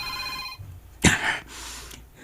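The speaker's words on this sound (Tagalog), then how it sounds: "Ultimo pagting sa cellphone." A cellphone rings at midnight with a brief electronic tone, followed by a sharp burst of handling noise as the phone is picked up.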